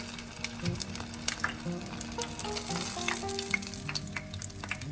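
Vidalia onion rings deep fry in a fryer with a steady, dense sizzle and crackle of bubbling oil, close and continuous, with occasional louder pops and faint clinks.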